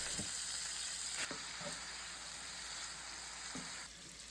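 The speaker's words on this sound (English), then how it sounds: "Mix and cook until the meat is browned and to temp." Ground meat sizzles and crackles steadily in a pan while browning, with occasional soft scrapes from stirring, fairly quiet throughout.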